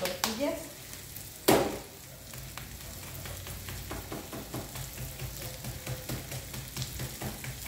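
Tortillas cooking on a hot comal, with a soft continuous sizzle, a sharp clatter near the start and light handling noises, all faint and close.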